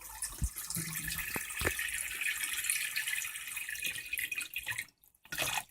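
Water trickling and splashing out through a hose draining an aquarium during bottom cleaning, a close, fairly soft flow with small drips and gurgles, briefly cutting out near the end.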